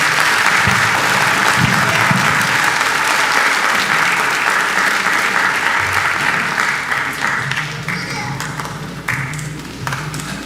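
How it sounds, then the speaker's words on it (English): Audience applause for a high school brass choir at a spring band concert, loud, dense clapping filling the hall and then slowly tapering off. "one more round of applause for the brass choir"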